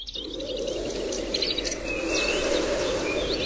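A cartoon parrot gives a few bright chirping calls over a steady, rushing stormy ambience.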